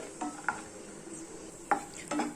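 Cashew nuts roasting in hot ghee, a faint soft sizzle with a few light scrapes and clinks of a spoon against the pan, quiet and close.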